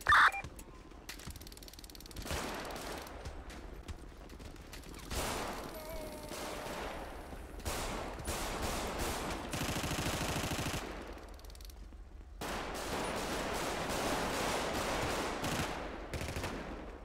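Gunfire rattles through a fight in GTA 5, coming in rapid bursts and long volleys with short quiet gaps between them, fairly loud and close, with mechanical clicks scattered throughout.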